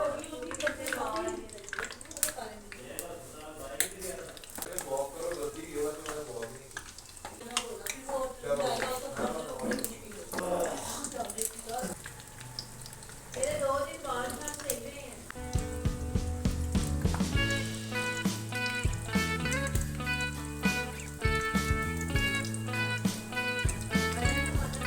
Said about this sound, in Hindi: ये जो फ्राई कर रही हूँ